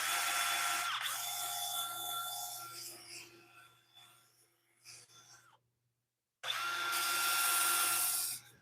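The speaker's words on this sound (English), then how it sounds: "Let me get the sander, and we're going to sand this out just a little bit." A power sander on a lathe-turned wooden bowl whirs steadily, fades and cuts out, then starts up again loudly near the end.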